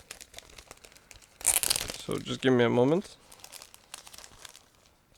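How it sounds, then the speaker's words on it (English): Resealable plastic bag holding an Eduard 1/48 Sopwith Camel 2F.1 Profipack decal sheet crinkles in a few close, loud bursts, with a short stretch of talk. "This one comes in a resealable plastic bag."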